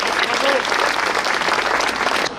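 A ceremony crowd claps steadily and warmly, dense continuous applause filling the space with a voice faintly mixed in, then cutting off at the end.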